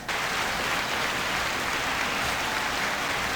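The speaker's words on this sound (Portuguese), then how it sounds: "Aplausos para ela." An audience applauds: a steady, even wash of many hands clapping, moderately loud and unbroken for a few seconds.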